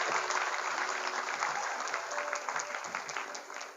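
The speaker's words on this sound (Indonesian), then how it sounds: "Kasih aplaus lagi." An audience at a circumcision thanksgiving gathering applauds, a dense steady burst of clapping that holds throughout and fades slightly at the end.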